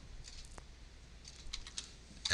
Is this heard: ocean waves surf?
no